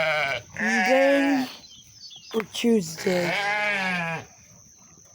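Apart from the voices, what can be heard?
sheep bleating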